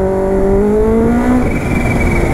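A motorcycle engine revs loud and close, its pitch climbing, then dropping and rising again in a harsh, rough roar.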